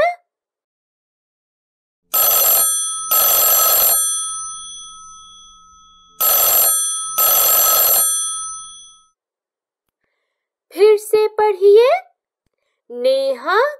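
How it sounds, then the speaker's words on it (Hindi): An electronic telephone bell rings in two pairs of bursts separated by silence, then a voice speaks briefly afterward. "टेलीफोन की घंटी बजती है ट्रिंग ट्रिंग ट्रिंग"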